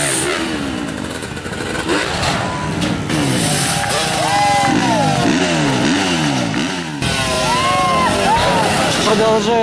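Several motorcycles rev and accelerate in repeated rising sweeps at a bike show in Orillia, Canada, loud and close with a steady crowd din underneath.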